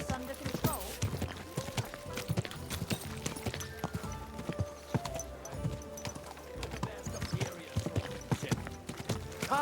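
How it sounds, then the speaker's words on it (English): Horse hooves clip-clop in an uneven trotting rhythm in the video game Kingdom Come: Deliverance 2, close and distinct, with music and scattered sounds around them. "Don't you know how to keep your horse under control?"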